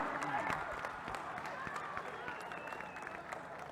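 Crowd applause at a Govinda troupe's Dahi Handi practice camp in Metpada, a sustained wash of clapping and cheering with a voice talking over it.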